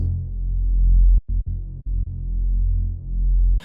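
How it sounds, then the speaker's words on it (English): A deep, thick synth bass drones with a slow throbbing movement, briefly cutting out a few times before resuming, with no other sounds. "load up a fat kind of like Reese sound"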